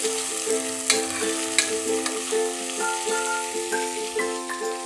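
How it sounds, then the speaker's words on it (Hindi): Onions frying in a pressure cooker for chicken biryani make a close, continuous sizzle, with stirring knocks at a regular pace and a steady tonal hum underneath. Nobody talks. "प्याज जल्दी फ्राई हो जाएंगे"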